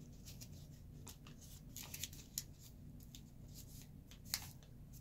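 Paper being folded and creased into an origami tulip: soft, faint rustles and crinkles with a few light, sharp crackles, close and quiet with no talking.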